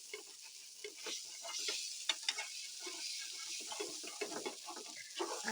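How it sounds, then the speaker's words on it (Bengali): Instant Maggi noodles stirred and frying in a pan, a steady close sizzle with repeated scraping stir strokes throughout, no voices. "এখন আগে ভালো মতো নেড়ে চেড়ে"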